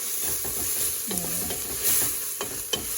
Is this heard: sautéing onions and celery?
yes